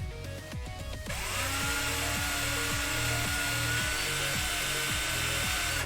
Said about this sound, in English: It's a 1mm drill bit, Sidwi.